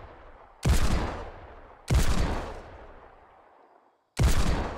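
Desert Eagle pistol firing in the video game Fortnite: three loud, sharp single shots spaced over a second apart, each with a long decaying echo tail.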